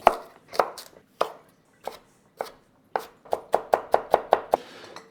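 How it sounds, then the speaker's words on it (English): Carrots are chopped into matchstick pieces with a knife on a board: sharp, close single chops at first, then a quicker, steady run of about a dozen cuts, with no talk. "we're going to chop up some carrots"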